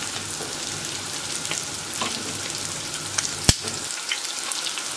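Köfte meatballs fry in a pan with a steady close sizzle and crackle, joined by a brief sharp clink of a utensil near the end.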